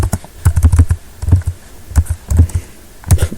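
Fast typing on a computer keyboard sounds close and loud, with bursts of clattering keystrokes broken by short pauses and no speech.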